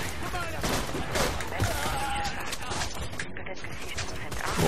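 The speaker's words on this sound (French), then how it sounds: "Oh, on me tire le dessus là" Enemy gunfire aimed at the player in Borderlands 2 co-op, a steady crackle of shots under a voice speaking French.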